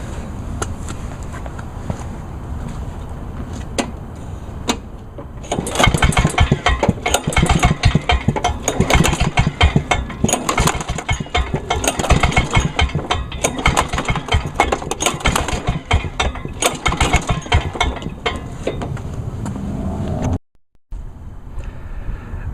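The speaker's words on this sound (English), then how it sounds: "I'll just crank the engine over several times" Lawnboy 10323 lawn mower engine being cranked over repeatedly during a compression test, a quiet start then a long stretch of loud, rapid chugging pulls that stop abruptly near the end.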